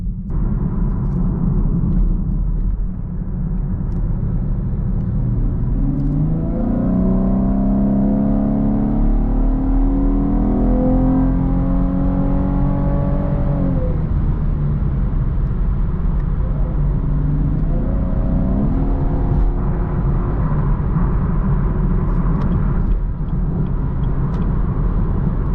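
A 2019 Chevrolet Camaro 1LT drives on the highway with a steady loud cabin drone of engine and tire noise, and its engine note rises audibly as the car accelerates midway through.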